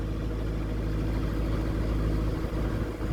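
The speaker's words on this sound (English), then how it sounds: "Little diesel engine irrigation pump." A small diesel irrigation pump engine runs steadily beside a river, a continuous low chugging drone at close range with no pauses or change in pace.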